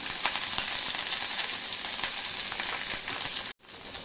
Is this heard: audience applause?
no